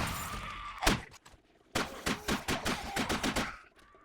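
Shotgun blasts in the zombie survival game 7 Days to Die: a single loud boom, a pause, then a rapid run of about eight heavy shots with no talking.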